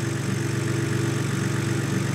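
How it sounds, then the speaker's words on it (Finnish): A BMW Z4 3.0si engine idles steadily after a repair, a constant low mechanical hum with an even, smooth tone, heard close and loud with no voices. "Tyhjäkäynti tasaantuu, niin kuin pitääkin."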